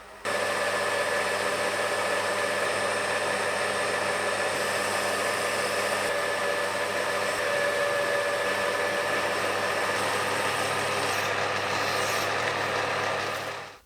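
A lathe turning steel down to 16 mm while making a small shaft for a hydraulic gear pump, giving a loud, steady cutting hiss and hum that holds evenly for the whole stretch before stopping abruptly.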